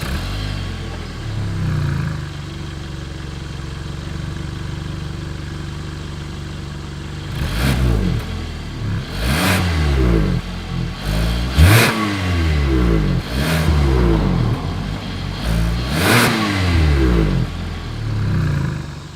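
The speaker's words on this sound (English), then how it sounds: "As always, here is that exhaust clip." Engine and exhaust of a 2021 Hyundai Tucson SUV, steady idle at first, then a series of five or six sharp throttle blips that rise and fall in quick succession, close and loud, with no talking.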